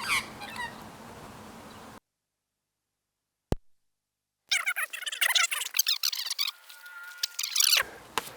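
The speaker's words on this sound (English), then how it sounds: "There's 2 magpies just here. Do you want to sing a beautiful song for us?" Several magpies calling outdoors near a tree, a burst of bright warbling, chattering calls after a quiet gap, with a single sharp click between, fairly close and moderately loud.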